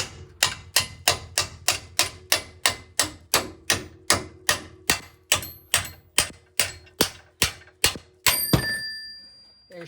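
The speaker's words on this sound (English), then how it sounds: "but you just whack the drift from the other side" Hammer repeatedly striking a steel drift punch to knock out a strut bolt on a 2007-2021 Toyota Tundra, about twenty sharp metallic blows in a steady rhythm, close and loud, ending with a clank.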